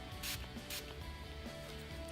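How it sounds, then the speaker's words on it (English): Brush cleaner spritzed straight onto a makeup brush, two quick hissing sprays close up in a quiet room. "spray directly onto the brush"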